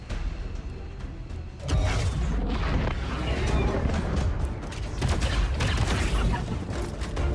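Gunfire in the tactical video game XCOM 2 erupts as a dense, continuous barrage of loud cracks and booms that starts abruptly and keeps rumbling over the rest of the stretch.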